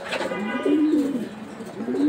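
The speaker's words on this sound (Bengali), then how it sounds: "এখানে দেখতে পাচ্ছেন এক জোড়া কালো রেসার, অনেকেই কালো রেসার কবুতর খোঁজে।" Black racer pigeons coo nearby, a low warbling call rising and falling, with faint background noise and a brief higher chirp at the start.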